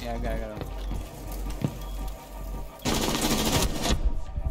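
Rapid gunfire from a video game in a friendly-fire moment on a multiplayer server, a dense loud burst of shots in the second half following quieter game noise and speech.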